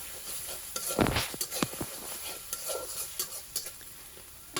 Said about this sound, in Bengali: সবগুলো মশলা আমি একবারে কষিয়ে নিচ্ছি